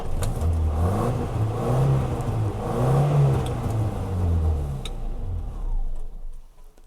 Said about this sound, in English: I'll give it a little rev for you as well so you can hear how she sounds.